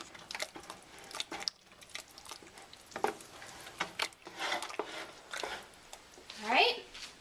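Heavy cream is stirred into a pot of chicken stew, with soft wet squishing and scattered spoon scrapes against the pot, irregular and fairly quiet throughout.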